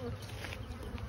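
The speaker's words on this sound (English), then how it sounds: "It looks like one of my hives swarmed." A swarm of honey bees gathered in an azalea bush hums with a dense, continuous buzz, close and steady for about a second with no other sounds.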